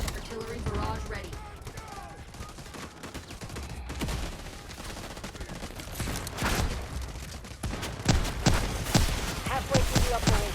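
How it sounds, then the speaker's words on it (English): An artillery barrage and gunfire rumble through a Delta Force Mobile trench-line battle at night, with a low continuous roar and dense rapid reports that build louder and more frequent toward the end. "Artillery barrage ready."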